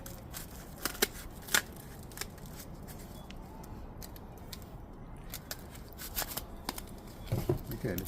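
Foam cut in half with scissors while padding the branches of a citrus tree: scattered crisp snips and crunchy rustles at irregular intervals, close by, among quiet handling noise.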